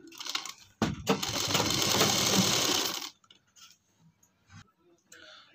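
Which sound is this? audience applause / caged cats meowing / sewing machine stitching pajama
sewing machine stitching pajama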